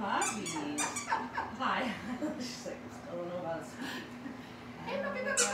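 Small puppies playing, giving high squeaks and little whimpers close by, mixed with a person's voice talking over them.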